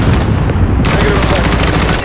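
Dense, loud gunfire in Call of Duty: Modern Warfare (2019) during a U.S. embassy siege mission, continuous overlapping shots right up close with battlefield noise throughout.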